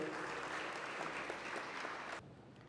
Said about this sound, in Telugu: ఒకసారి గట్టిగా చప్పట్లతో వారిని ఇన్వైట్ చేసుకుందాము